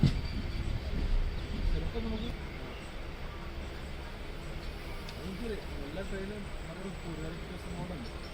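The Dhanbad Express rolls along the rails near Cherthala station, a low, steady rumble that is slightly louder at first and then settles. A person talks over it throughout.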